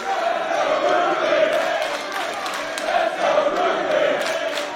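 A wrestling arena crowd at a women's triple threat match roars steadily in support of Ruby Soho as her entrance music plays, a sustained, moderately loud wash of cheering and crowd noise.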